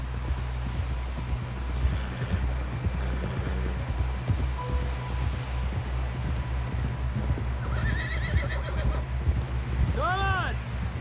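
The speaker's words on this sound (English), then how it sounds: "Someone help John down off this horse" Steady clip-clop of hooves in Red Dead Redemption 2 under a constant low rumble, with a horse neighing loudly near the end and faint whinnies earlier.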